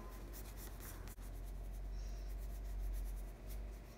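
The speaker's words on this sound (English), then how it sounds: "So I'm gonna draw a quick apple." Quiet, close scratching of a drawing tool on paper as an apple is sketched, with soft continuous strokes and a brief tap near the start.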